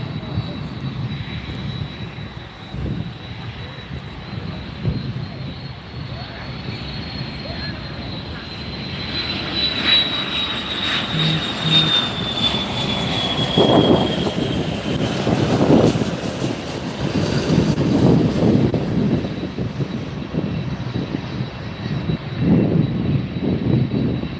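An MD-83 jet arrives at Miami airport, its engine roar building from a distant whine into a loud, sustained rumble as it approaches, with a voice talking over it.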